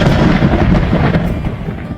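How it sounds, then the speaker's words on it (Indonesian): A loud, close thunder strike cracks and rumbles, with dense low-frequency energy holding steady and then slowly fading toward the end. "Suara petir menyambar dengan sangat kencang."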